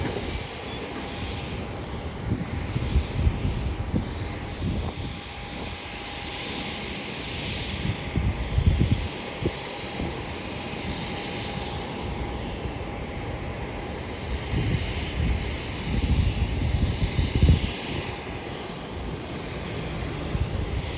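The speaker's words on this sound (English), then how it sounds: "Southwest Airlines at gate A9, now pushing back." A Southwest Airlines jet pushes back from gate A9 at Hollywood Burbank Airport, a steady distant engine hum and broad roar rising and falling slightly over a faint constant whine.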